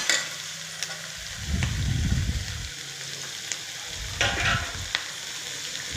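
Chopped capsicum fries in oil with a steady sizzle while being stirred, the spoon scraping and tossing the pan in two louder bursts, up close and without talk.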